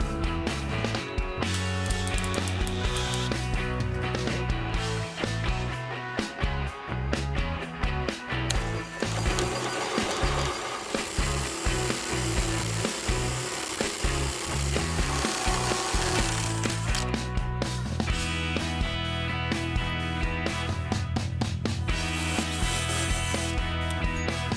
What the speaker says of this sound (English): I then used a smaller Forstner bit to hollow out some of the area so that I could then use the larger Forstner bit to finish it off